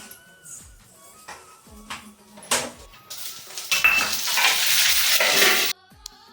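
Sesame seeds and whole dried red chilies crackle and sizzle in hot oil, building to a loud steady fry, with scattered clinks of a spoon against the pan.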